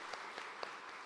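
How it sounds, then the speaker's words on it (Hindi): Faint, brief applause from an audience at a girls' awareness event in India, a soft steady patter of clapping lasting about a second with a few slightly stronger claps. "तालियां बजाइए एक बार"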